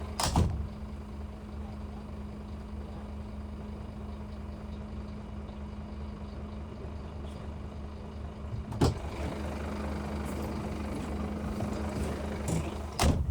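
A lorry engine idles with a steady low hum and drone, broken by a few sharp metallic clunks and knocks.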